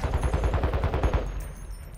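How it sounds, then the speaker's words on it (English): Rapid automatic gunfire in Call of Duty: Modern Warfare II, a tight string of heavy shots for about a second before the firing cuts off and leaves ambient noise. "I'm getting shot at."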